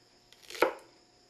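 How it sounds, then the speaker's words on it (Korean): A single knife chop cuts through a mild cucumber chili pepper on a board, one crisp close stroke in near silence. "맵지 않은 오이고추를 짧게 썰어 씨를 파낸다."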